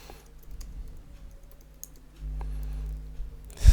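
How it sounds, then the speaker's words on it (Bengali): Keys tap on a computer keyboard in a short run of light clicks, ending in a firmer press of the enter key, close and clear with no talking. "স্ট্রং লিখে এন্টার দিচ্ছি।"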